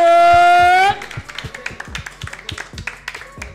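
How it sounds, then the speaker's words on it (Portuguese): Crowd claps after a round of a rap battle final at Batalha da Aldeia, scattered sharp claps with uneven rhythm following a sustained tonal blast at the start. "Palmas, palmas, família, palmas pra esse round!"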